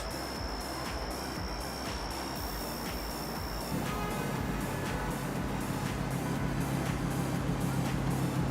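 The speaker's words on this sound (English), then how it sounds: "There's an F12." A Ferrari F12 drives past on a Miami street, its engine rising into a louder, steady roar in the second half over constant traffic noise, with a brief high whine fading out early on.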